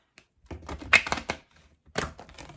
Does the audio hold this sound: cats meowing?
no